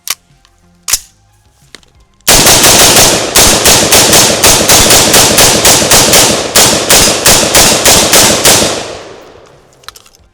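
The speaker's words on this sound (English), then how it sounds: "we're gonna be shooting some forbidden Winchester white box here. 500 rounds, 55 grain, just standard M193s" Radical RF-15 rifle firing Winchester white box 55 grain M193 rounds in a long, loud string of rapid, evenly spaced shots lasting about six seconds, with a few isolated shots before and after.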